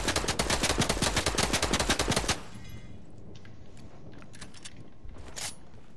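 A rapid burst of automatic gunfire from the video game Fortnite fires steadily for a couple of seconds, loud and close, then stops. Faint scattered clicks and distant shots follow in a quieter tail.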